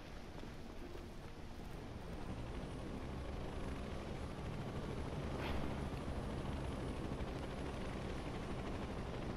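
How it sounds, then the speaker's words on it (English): Helicopter rotors in the video game inFAMOUS Second Son drone on steadily as a broad, even roar for the whole stretch, with no talk over it. "Nice helicopters."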